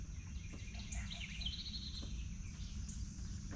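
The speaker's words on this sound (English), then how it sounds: "listen to these birds do their thing" Birds chirp and sing outdoors at a boat camp, light high calls drifting over a low, steady background hum, fairly faint and without talk.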